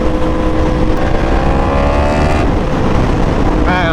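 Yamaha R1 sport motorcycle on a highway, its engine roaring loud and close with rising and falling harmonics as the rider blips the throttle on downshifts, a sharp rev climbing at the end over constant wind rush.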